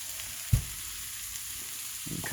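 Onions and peppers cook down in a pan with a soft, steady sizzle, broken once by a short knock of a utensil and ending in louder stirring.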